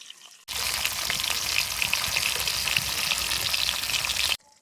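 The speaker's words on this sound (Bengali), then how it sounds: "মশলা বাটা হয়ে গেছে, এবার মাছগুনা ভেজে নিছে।" Shing catfish pieces frying in hot oil in a pan, a steady, close, loud sizzle that starts abruptly and runs unbroken for about four seconds before cutting off.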